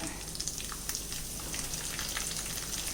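Urad dal, dried chilli pieces and curry leaves frying in hot oil as a tempering for groundnut chutney, giving a steady, soft crackle and sizzle with small pops throughout and no talk.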